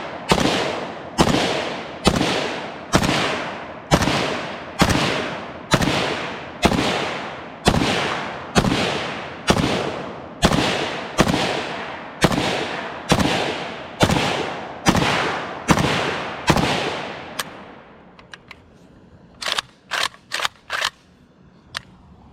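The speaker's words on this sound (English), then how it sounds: "First rounds out of the" KUSA KR-103SF AK-pattern rifle firing its first rounds outdoors: a loud, evenly spaced series of about eighteen sharp gunshots with short decays, then a few fainter, quicker clicks and knocks afterward.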